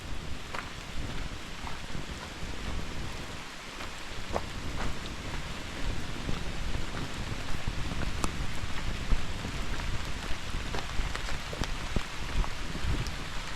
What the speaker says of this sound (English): And if you can't tell, it's still raining.